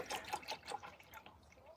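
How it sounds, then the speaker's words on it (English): Milk poured into a container, a short run of liquid trickling and splashing, close and moderately loud, fading out after about a second. "So then we're gonna pour the milk in here."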